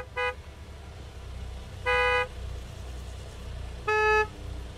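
Car horns honk in the PC game Gas Station Simulator, three short loud blasts spaced about two seconds apart over a low engine rumble, with no talk.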